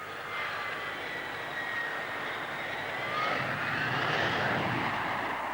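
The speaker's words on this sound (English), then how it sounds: "The Harrier utilizes the enormous thrust of its Rolls-Royce engine" A Harrier jet with a Rolls-Royce engine at a 1980s airshow, a loud, steady roaring whine that swells slightly as it passes, heard alone.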